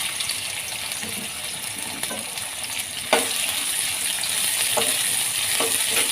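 Chopped onions hit hot oil in a kadai on the stove, giving a steady, close sizzle with a sharper burst partway through as they fry, no voices.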